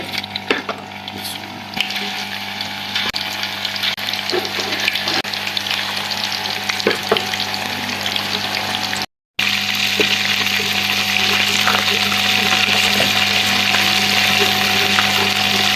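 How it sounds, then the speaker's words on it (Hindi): Koftas fry in hot ghee, giving a loud, continuous hissing sizzle with scattered pops and crackles, broken by one brief silent gap partway through. "अब हम इनको फ्राई कर लेंगे, तेल में इनको हम फ्राई करेंगे।"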